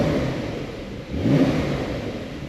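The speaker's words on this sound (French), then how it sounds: "Et puis on passe en mode sport. Donc là, avec l'échappement sport, on va avoir une très belle sonorité." A Porsche 911 992 Carrera S in sport mode with its sport exhaust gives a loud, close, steady engine note that dips briefly and then swells back up in a rev. No voices are heard.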